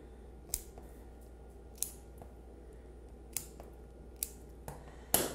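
Nail clippers trim a dog's nails, giving a handful of sharp, isolated clicks spaced a second or so apart over a quiet background, close and crisp, with the final snip loudest.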